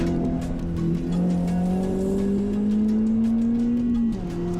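A race car drives on a track during time trial sessions, its engine droning loud and close with a steadily rising pitch as it accelerates through the gears, then a brief dip near the end.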